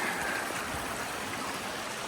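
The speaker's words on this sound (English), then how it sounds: "So I'm just crossing this creek" Creek water flowing over rocks on a bush walk in Cathedral Range State Park, a steady close rushing and trickling wash, brief and continuous, with no talking.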